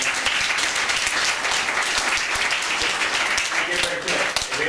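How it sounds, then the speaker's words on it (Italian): Audience applause at a Rotary Club scholarship ceremony in Saronno, a loud, sustained wash of many hands clapping together with no break, voices faintly present beneath it. "Un applauso ancora."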